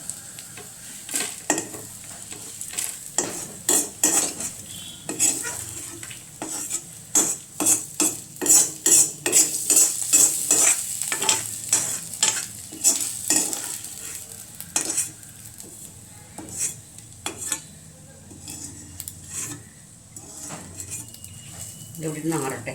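Grated coconut and chilies roast in a hot pan, with repeated sharp scrapes and clinks of a metal spoon stirring over a steady sizzle, close and loud, while a voice talks at times.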